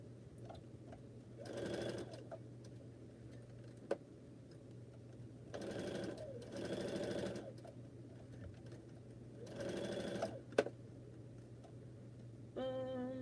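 A Viking sewing machine stitches in several short bursts of rapid mechanical whirring, separated by pauses with a low steady hum and occasional clicks.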